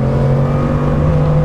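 A Bugatti Chiron at full throttle gives a loud, steady, dense engine roar with a strong low drone that holds without a break, close and with no voices.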